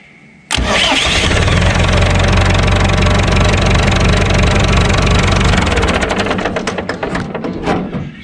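A Perkins diesel engine on a Massey Ferguson 175 tractor cranks and catches abruptly, then runs loud and rough at a steady idle, settling into a knocking chug toward the end.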